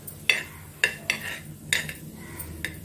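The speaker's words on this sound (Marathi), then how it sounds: "धने सगळे भाजून घेते मी चांगले" Coriander seeds dry roasting in a pan for sambar masala, heard as a run of sharp metallic scrapes and clinks from a spoon against the pan, about six distinct strikes at an uneven pace, close and clear.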